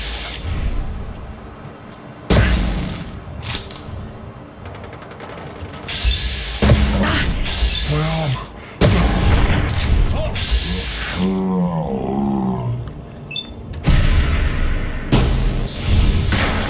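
Gunfire and heavy impacts from the Fallout London video game come in sharp, loud bursts that are spaced irregularly, with thuds and booms between the shots and a voice speaking at times.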